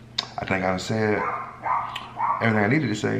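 Dogs bark in the background, a few short bursts sitting under a man's close, steady talking.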